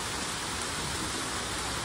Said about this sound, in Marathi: पाऊसच पाऊस आहे सगळीकडे.